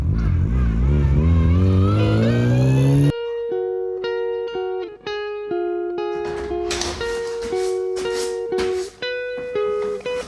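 A car engine revs close by with a rising, wavering whine for about three seconds, then gives way to steady tonal music.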